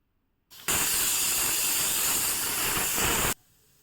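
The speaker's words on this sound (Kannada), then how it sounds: "ಇದನ್ನು ಕೂಡ ಒಂದು ವಿಷಲ್ ಬರೆಸ್ಕೊಳ್ತೀನಿ ನಾನು" A pressure cooker whistle releases a loud, steady hiss of steam for about three seconds while lentils cook for a drumstick-leaf uppu saaru, starting and stopping abruptly.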